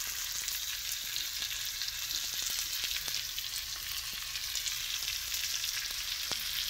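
Sweet potatoes fry in hot bacon grease in a pan turned up high, giving a steady, dense sizzle with scattered crackles and pops close by and no talking.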